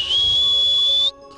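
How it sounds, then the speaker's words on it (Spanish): A man gives a single sustained, high, steady whistle lasting about a second to call a caiman at San Juan del Sur, Rivas. It is loud and close, with no talking. "Haga el chiflido que usted hace."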